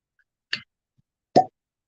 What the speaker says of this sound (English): Satisfying little cork pop.